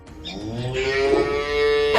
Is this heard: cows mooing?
yes